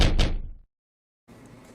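A front door is kicked in with one heavy, loud, crashing impact that fades out, followed by a moment of silence and then low background noise.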